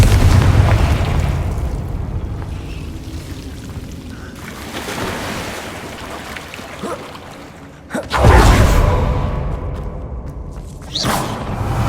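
A Confringo fire spell explodes in Hogwarts Legacy, heavy booming blasts with a rumbling roar, a loud sharp burst near the end after a fading rush, all without speech.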